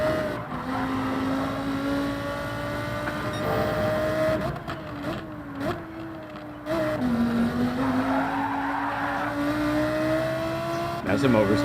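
A race car in Gran Turismo 7 oversteers with a sustained tire squeal over a droning engine whose pitch shifts through the slide, with a quick skid near the end and people talking in the background.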